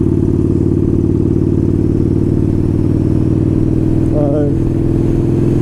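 A Yamaha Bolt motorcycle with an aftermarket intake and exhaust thumps along in a loud, steady, close engine rumble with a continuous throb, briefly joined by a short chirping sound near the end.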